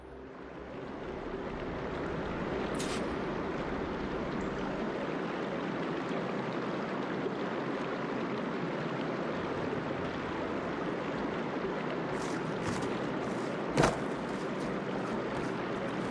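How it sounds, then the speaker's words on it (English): Steady water flowing inside a room in Horizon Forbidden West, a continuous rushing wash at moderate level with a few faint clicks and one brief sharp tick near the end. "Aloy, I can hear water in the room again."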